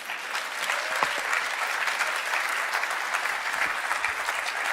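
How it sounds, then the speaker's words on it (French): A church congregation claps together during a sermon, producing a sustained, even roar of applause that carries on for several seconds with a few sharper individual claps standing out. "vous avez le droit d'applaudir le Seigneur"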